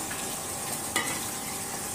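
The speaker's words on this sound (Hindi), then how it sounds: "कश्मीरी लाल मिर्च 4 चम्मच, उसको हिला लो" Kashmiri red chilli powder being stirred in a cooking pot for a mutton rogan josh, giving a steady close scraping hiss with a soft sizzle and one brief knock midway, no talking.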